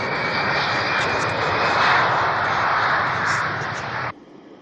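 Steady airliner engine drone in flight, a broad even roar heard continuously from inside the cabin, cutting off abruptly near the end.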